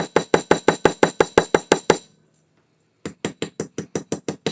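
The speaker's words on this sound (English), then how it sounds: "So this hammer I was talking about, it just gives it a very precise" Small jewelry hammer tapping metal in quick, even strikes, about a dozen sharp close blows, a one-second pause, then another steady run of taps.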